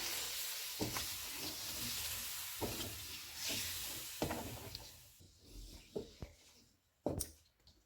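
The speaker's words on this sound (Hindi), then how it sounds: "इसमें फेंटा हुआ दही डालेंगे, इसको मिक्स करेंगे" Whisked yogurt is stirred into chicken karahi frying in oil over low heat, giving a soft hiss and sizzle with repeated scraping knocks of a spoon, fading toward a few sharp clanks near the end.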